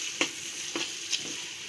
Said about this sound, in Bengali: এর ভিতরে এখন এক এক করে পেঁয়াজ কুচি দিব, মরিচ কুচি, পেঁয়াজ, মরিচ এবং রসুন লাল লাল করে টেলে নিতে হবে প্রথমে।